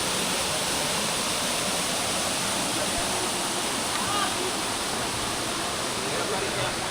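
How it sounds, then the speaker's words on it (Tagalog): A steady, dense roar of falling water from Pajao Falls in Marinduque, Philippines, fills the scene, constant and close with no pauses. "Ito yung Pajao Falls"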